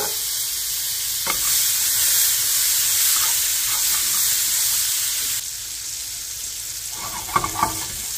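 Pressed garlic sizzles in a frying pan for garlic shrimp with white wine, a steady close hiss with a few soft stirring clicks toward the end.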